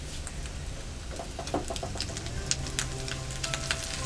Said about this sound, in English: our mixture of our sauteed onions, mushrooms, and bacon are good